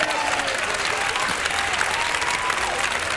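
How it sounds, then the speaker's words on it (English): Steady, dense applause and cheering from a large crowd at a 1991 men's ultimate frisbee world championship final in Toronto, loud and continuous throughout after a strong defensive block. "Oh, the crowd loves that."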